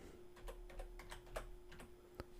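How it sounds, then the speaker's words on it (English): Fingers type on a computer keyboard, a quick uneven run of light clicking keystrokes, close and clear over a faint steady hum. "We'll start typing Instagram."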